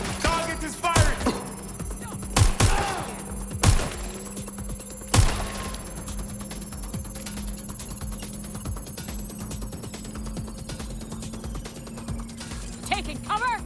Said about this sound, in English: I'm taking fire! Shit, I need help! Oh. Target is firing!